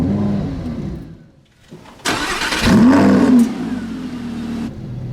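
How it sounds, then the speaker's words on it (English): A 2016 Lamborghini Huracan engine cranks and fires up after a brief pause, flares into a loud rev, then settles into a steady idle. "foot on the brake, and we can start the car"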